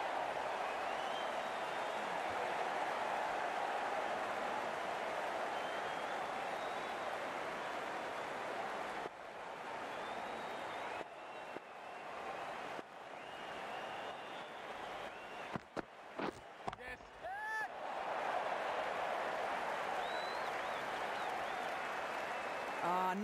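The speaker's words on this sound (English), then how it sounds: "It's going to be hard for the bowler to focus with the crowd this excited." A cricket match crowd in Houston applauds a boundary four, with sustained clapping and cheering at a steady roar, briefly dipping and fluttering near the end, while a commentator talks over it.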